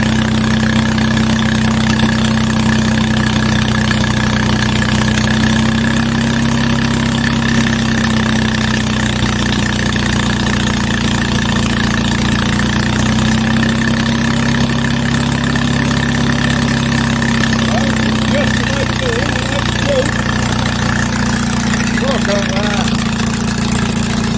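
An Onan flat head twin generator engine runs unsilenced, its steady, loud, rough idle drone continuing throughout with a constant low hum and no breaks.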